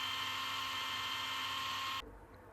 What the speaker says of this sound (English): Blend together onion, garlic, pepper, and parsley.